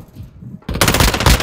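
Sustained automatic gunfire in Call of Duty Modern Warfare II during a Team Deathmatch match, erupting suddenly after a quieter stretch into a loud, close, rapid stream of shots.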